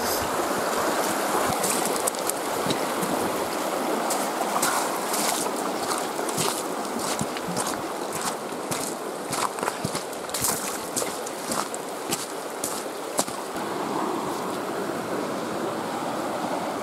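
Creek water rushes and splashes along a backcountry stream in the Ruahine ranges, a continuous close broadband flow mixed with scuffing steps of someone wading downstream.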